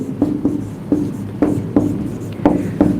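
Chalk or marker strokes on a classroom board, a series of short scratchy marks in uneven bursts, close and fairly loud, with no talking.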